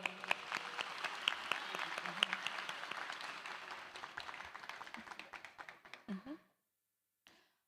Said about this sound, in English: Let's give Delegate Boyce a round of applause.